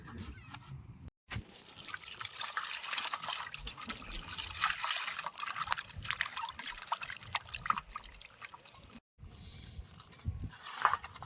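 Cut pieces of silver carp are rinsed in a bowl of water, with soft continuous splashing, trickling and sloshing at close range, fairly quiet and broken by two brief pauses.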